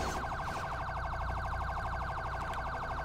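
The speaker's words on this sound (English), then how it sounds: "Let me turn my siren off." A Grand Theft Auto V police siren wails continuously in a rapid, pulsing electronic pattern, loud and unbroken throughout.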